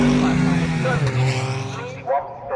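GT race cars, among them the WSR BMW, roar past on the Snetterton circuit during a British GT Championship race, a loud sustained engine drone with shifting pitch while a commentator talks over it.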